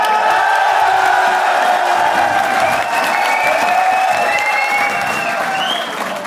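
Crowd of workers at a rally applauding and cheering, with loud continuous clapping plus whoops and shouted voices that stay steady throughout and ease slightly at the end.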